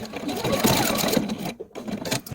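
A sewing machine stitches down quilt binding with the presser foot along the edge, a close, steady mechanical whir that breaks briefly partway through, with a person talking over it.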